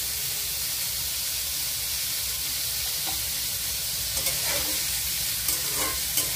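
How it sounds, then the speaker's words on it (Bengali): Chopped onions fry in hot oil with a little salt, giving a steady, even sizzle and hiss throughout. A few faint scrapes of stirring come in near the end. "পেঁয়াজটাকে ব্রাউন কালার করে ভেজে নেব।"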